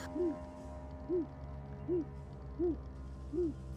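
Owl in a video game giving five evenly spaced short hoots, each a soft rising-falling note, heard clearly over a low steady hum of game ambience with no talking.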